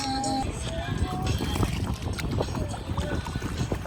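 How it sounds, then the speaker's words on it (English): Kayak paddling on Bowman Lake, California: rhythmic paddle strokes splash and drip close by against a constant wash of water and light wind noise. "Kate wants to go kayaking, so that's where we're going. Ready? Paddle, paddle, paddle."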